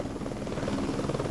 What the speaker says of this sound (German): Und da kommt auch schon der Heli, der sie einsammeln soll.